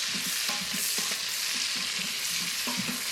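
Bacon and sausage slices frying in an Instant Pot, a loud continuous hissing sizzle with soft periodic knocks of a utensil stirring, heard close up with no voice.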